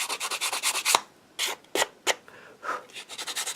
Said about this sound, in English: we're going to trim this part back up. I should say sand it back off.